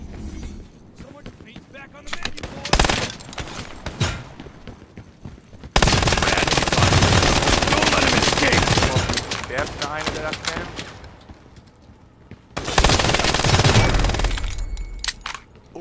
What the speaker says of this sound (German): Hinter uns sind auch Schüsse.